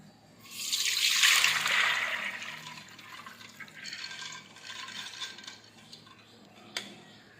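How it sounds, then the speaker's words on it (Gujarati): Water drains off soaked moong beans and moth beans in a strong close splashing pour that fades after a few seconds into softer trickling, ending with a small knock. "હવે આપણે એમાંથી બધું પાણી કાઢી લેશું"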